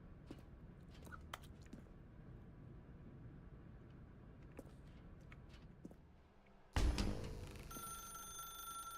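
Old telephone ringing in The Stanley Parable: Ultra Deluxe, a sudden loud ring breaking in after a quiet stretch of faint clicks and rustles, then a sustained bright ringing tone that carries on to the end.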